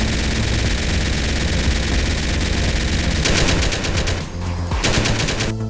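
Continuous automatic gunfire from recoil-modded weapons in GTA San Andreas, a loud unbroken rattle of rapid shots running throughout, with a brief dip near the end before the burst resumes.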